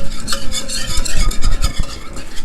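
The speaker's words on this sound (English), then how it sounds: "Next thing in, cup of onion. Just get that kind of stirred up into the roux." Cup of onion being stirred into a butter roux in a pot: a steady run of close, scraping and rustling strokes with a few clinks of utensil against metal, carrying on without pause.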